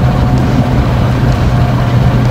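A car engine fitted with a B303 camshaft, in a silver coupe driven for the first time since a fire, makes a loud, close, rumbling low drone with a steady, lumpy pulse. Wind noise sits over it.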